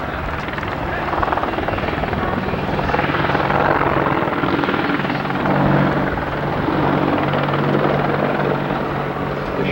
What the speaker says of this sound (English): An extremely maneuverable aircraft, the AH-64 Apache helicopter.